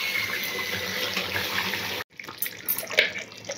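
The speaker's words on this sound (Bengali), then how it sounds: "এটা অল্প সামান্য 1 কাপ মতো জল দিয়ে দেবো।" About a cup of water is poured into curry cooking in a pan, a steady rushing pour for two seconds, then a brief cut and sputtering, splashing liquid sounds.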